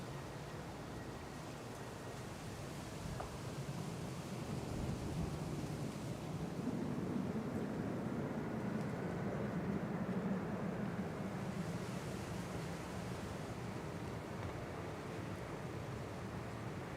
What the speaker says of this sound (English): Wind's picked up again.